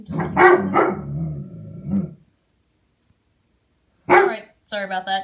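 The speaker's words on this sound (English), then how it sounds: "he decides he has to bark at them, even though they're out there every day" A pet dog named Zeus barks at people playing baseball in a nearby field, giving a short burst of barking after someone talks, with the voice continuing around it.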